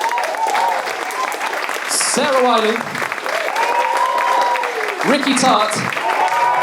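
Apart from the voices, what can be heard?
audience applause for the previous writers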